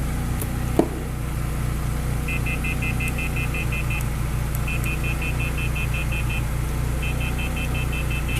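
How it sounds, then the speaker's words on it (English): A scan tool's alarm beeps in rapid bursts of high-pitched tones, three clusters of quick repeated beeps over a steady idling car engine hum. "So, the alarm's going off"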